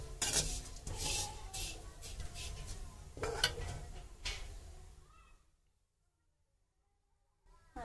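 Thick sewai vermicelli roasted in a pan and stirred to brown, giving a busy scraping and rustling with bursts of clinking for about five seconds, then near silence before a brief return of noise.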